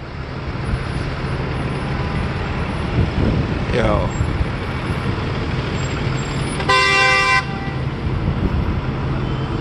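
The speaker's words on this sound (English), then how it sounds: "There's a whole lot of traffic, emergency lights going on." Evening New York City street traffic with emergency lights nearby, a steady roar of engines and a broad horn toot around the seven-second mark, plus a brief swooping tone, under a short spoken word.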